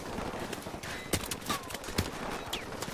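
Gunfire in the Modern Warfare Remastered campaign comes as several sharp shots and bursts against steady battle noise, with a few loud close cracks standing out.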